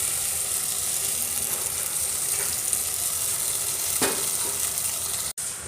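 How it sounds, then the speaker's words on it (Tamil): Ground masala paste sizzles and fries in a pot of goat leg soup gravy, a steady close hiss that runs throughout with a few brief spatters and no talking. "இப்போ அரைச்சி வச்ச மசாலாவை ஊற்றிக்கலாம்."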